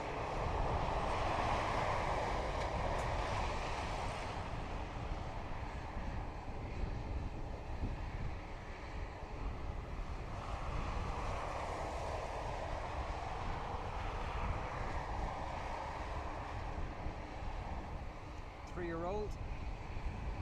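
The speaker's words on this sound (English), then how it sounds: "E195E2, also known as a Wookiee, as you'll hopefully hear now when the engine starts to spool up" An Embraer E195-E2 jet at Dublin Airport spools up its engines with a steady, broad roar and a rising whine, heard from a distance as a continuous rumble with no voices.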